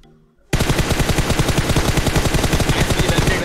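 Automatic gunfire in PUBG Mobile bursts in after a brief quiet moment, then runs as a loud, steady, evenly spaced stream of rapid shots close by, with no one talking.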